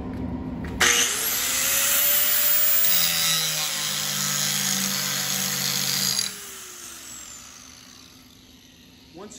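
Tool steel reamer ground on a grinder for spark testing: a loud, steady abrasive grinding whine runs for about five seconds, then cuts off as the motor spins down.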